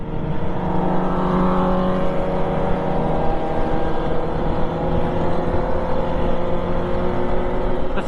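A Suzuki Katana inline-four motorcycle engine runs loud and close with a steady, throaty drone and slight rises in pitch at a riders' anniversary gathering.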